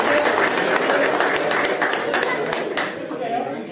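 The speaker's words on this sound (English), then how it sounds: "a big, big round of applause to all the fighters" A crowd at a fighters' weigh-in applauds, dense clapping continuing steadily with a voice talking over it.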